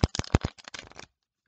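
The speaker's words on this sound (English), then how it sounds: "you can shuffle about half, throw these back, and throw those on top" A deck of playing cards being shuffled overhand by hand, a quick run of sharp close riffling slaps and flutters that stops abruptly, followed by silence.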